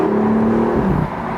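A BMW M4 engine revs loud and close, a steady rising tone that shifts pitch partway through, with no talking.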